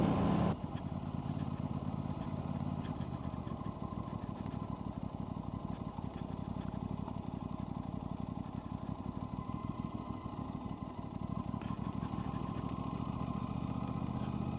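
An Aprilia RS660 sports motorcycle engine pulls smoothly from low revs during a test ride, a steady, continuous drone that stays at an even level throughout, with no talking.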